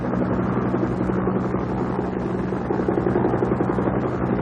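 Vietnamese Air Force helicopter flying north over the flooded Mekong delta from the South China Sea, its rotor and engine giving a steady, loud, continuous drone with a rhythmic chopping throb throughout, no voices.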